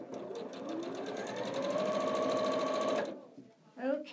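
A domestic sewing machine runs steadily for about three seconds, stitching quilting fabric as a leader is sewn on, with a steady whirring hum that stops abruptly, followed by a brief soft rustle.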